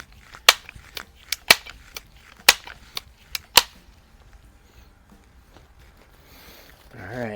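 Several sharp pellet shots from a Crosman air rifle, a Model 101 or 362 anniversary edition, fired at a 25-yard open-sight range, spaced irregularly over a few seconds with quiet gaps and a faint rustle at the end.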